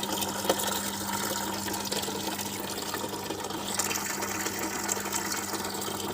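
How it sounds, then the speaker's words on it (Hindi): Water runs steadily from a tap into a container for a temple, a soft continuous splashing stream with a low hum behind it. "और ये भर रही हूँ मैं मंदिर के लिए पानी।"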